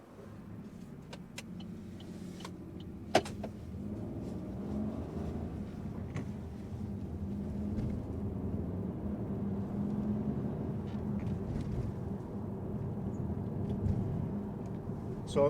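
Inside a driving school car, the engine idles and then pulls away, a low steady rumble that rises gently as it moves off, with a few faint clicks and knocks from the cabin and no talking.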